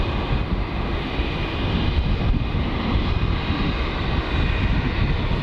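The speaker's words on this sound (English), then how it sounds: "it looks like we're going to get close and personal to this Jetstar A320" A Jetstar Airbus A320 jet passes close by at Melbourne Airport in heavy wet weather, a loud, dense engine rumble with a steady hiss that stays strong and even throughout.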